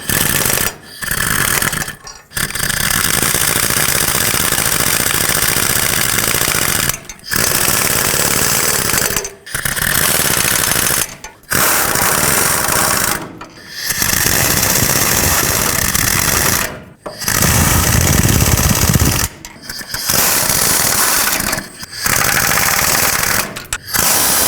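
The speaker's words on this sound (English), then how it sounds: "I'm just going to use my air gun and tighten them up" Air impact gun tightening exhaust manifold bolts on a 1997-2003 Ford F-150, a loud rattling hammer in long bursts of a few seconds each, broken by short pauses between bolts.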